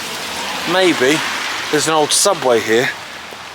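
Heavy rain falling outdoors near Shawclough station in Lancashire, a steady broadband hiss running throughout beneath someone talking.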